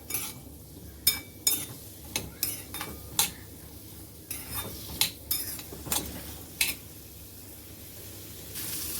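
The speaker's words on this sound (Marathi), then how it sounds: "हे बघा आता आपली गाजर छान परतत आहेत थोडीशी." Grated carrots sautéing in a pan for a sweet dish, with a spoon clinking and scraping against the metal in irregular sharp strikes over a faint steady sizzle, close and without speech.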